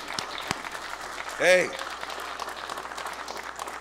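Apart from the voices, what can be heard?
audience applause for the Teamsters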